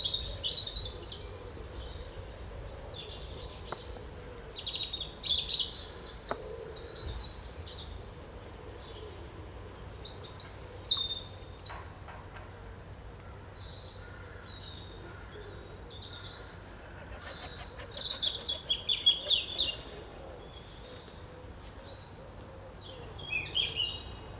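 A small native tit species sings in a British garden, with faint, high chirps and short song phrases coming in scattered bursts over a quiet outdoor background.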